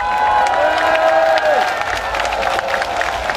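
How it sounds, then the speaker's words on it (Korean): Crowd at an outdoor rally in Seoul Plaza applauding and cheering, a dense roar of claps and shouts with a sustained tone and whistle-like sweep, loud and continuous across the few seconds. "박수를 치려면 치고 말라면 말아요"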